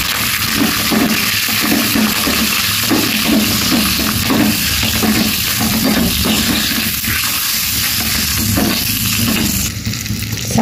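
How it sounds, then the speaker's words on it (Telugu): Cumin and mustard seeds sizzle steadily in hot oil for a tempering with urad and chana dal, a dense continuous crackle with frequent stirring scrapes, loud and close throughout. "జీలకర్ర, ఆవాలు పోపు దినుసులు వేసుకోవాలి"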